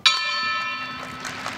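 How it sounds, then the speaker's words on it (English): Wrestling ring bell struck once at a Pro Wrestling NOAH tag team match, a single loud metallic clang that rings on and slowly fades with faint arena noise behind it. "There's the bell."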